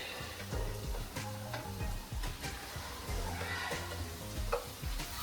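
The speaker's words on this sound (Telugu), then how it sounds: "వేసిన చికెన్ని ఇలా బాగా కలగదిప్పుకొని ఒక 2-3 minutes ఇట్లా ఫ్రై చేసుకొని" Chicken fries in ginger-garlic masala for a curry while being stirred, a soft continuous sizzle broken by repeated scraping and clinking strokes of a spoon in the pan, close but fairly quiet, without speech.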